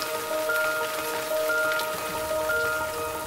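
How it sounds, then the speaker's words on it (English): Steady rain falls across a surface in an outdoor urban setting, a dense continuous patter with constant loudness throughout and no voices present. "It's raining."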